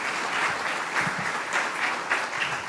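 People at a school board business meeting give a round of applause for local law enforcement, a full, continuous clapping from a crowd in a hall, steady and moderately loud.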